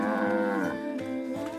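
A cartoon cow moos in a long, loud, drawn-out call that wavers in pitch, followed by two shorter lowing sounds, with no talking.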